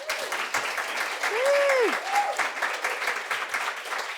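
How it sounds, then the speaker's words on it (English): A room audience at a live event after the London Marathon claps in a steady, full round of applause, with scattered cheers and whoops rising above the clapping. "So a big round of applause for all of you."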